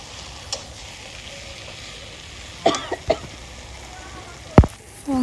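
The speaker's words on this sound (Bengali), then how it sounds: "এখন আমি ভালোভাবে নেড়ে ছেড়ে মাছগুলো মিশিয়ে নিব" Fried fish being stirred into a pan of gourd and shrimp curry in a village kitchen: a soft steady sizzle with a few sharp scrapes and clinks of the spoon, and a cough near the end.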